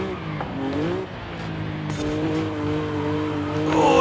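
A 2019 Nissan 370Z Nismo in Forza Horizon 5 holds a steady mid-revving engine drone in fifth gear, its pitch dipping and rising with throttle, a brief tire squeal and rising revs near the end.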